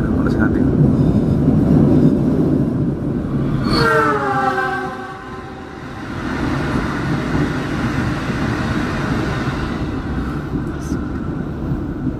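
The Kutojaya Selatan passenger train arrives at Kutowinangun station with a continuous loud rumble, a brief wavering horn-like tone near the middle, then easing to quieter running, with people talking throughout.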